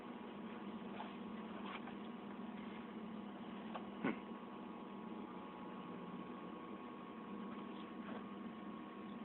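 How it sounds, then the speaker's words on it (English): A Mazda Miata engine idling steadily after a fuel pump swap, a low constant hum with faint tonal bands and a single brief knock midway, heard alone without any talking. "Yeah, I'm just letting it idle."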